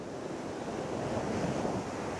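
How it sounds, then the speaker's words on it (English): Ocean surf rushing and crashing continuously on a beach at Laguna Beach, California, large waves, a broad steady wash of water with wind buffeting the microphone, fairly loud and with no voices. "These waves are really getting huge."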